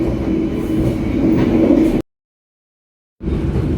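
Turangga panoramic passenger train on the Jogja to Bandung route, a steady low rumble of wheels and carriage noise with faint rattles, cutting out abruptly for about a second before resuming.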